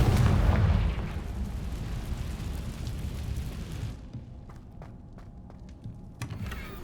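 A Confringo fire spell bursts in the Hogwarts Legacy video game: a loud deep explosive boom up front that rumbles away over several seconds, followed by scattered faint clicks and taps.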